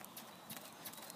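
Pony hooves trotting in a riding lesson, a faint, steady clip-clop rhythm of light hoof strikes heard at a distance beneath an instructor's voice.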